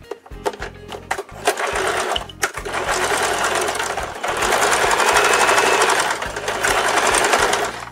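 Sewing machine stitching the side seams of lace panties for a fabric rag doll, running in loud steady bursts with short stops and restarts for backstitching at each end, with no talk.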